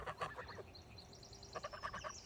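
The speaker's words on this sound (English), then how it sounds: "We're surprised at how much we like the geese." Farmyard geese honking in two quick clusters of nasal calls, fairly faint and distant, over a low outdoor background hum.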